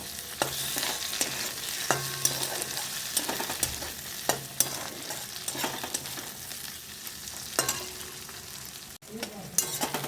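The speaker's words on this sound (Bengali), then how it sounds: "এরপর আমি টমেটো আর ক্যাপসিকাম দিয়ে দিলাম, দুটো একসঙ্গে দিয়ে দিলাম। এরপর আমি ভাজবো" Tomato and capsicum frying with browned onion in a pan for chilli paneer: a steady sizzle throughout, broken by repeated clinks and scrapes of stirring, with no one talking.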